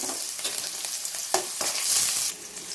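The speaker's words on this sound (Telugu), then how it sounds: "ఆయిల్ హీట్ అయిన తర్వాత ఆనియన్స్ వేసుకోవాలండి" Onions go into three tablespoons of heated oil for a beans curry, giving a steady loud sizzle and frying hiss with a few stirring scrapes, close up and without talk.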